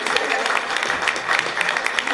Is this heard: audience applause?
yes